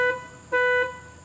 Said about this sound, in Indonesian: Saya nggak ngerti kenapa harus klakson standarnya bunyinya seperti ini.